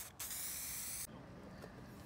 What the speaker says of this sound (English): we just get Rust-Oleum Crystal Clear Matte Finish Spray, and this will help protect it from the rain.